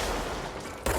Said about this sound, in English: Hit by another grenade.